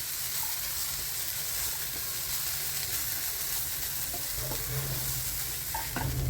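Fried masala chicken sizzles in a hot pan as it is stirred, a continuous close frying hiss punctuated by soft scraping and clinking of the spoon against the pan.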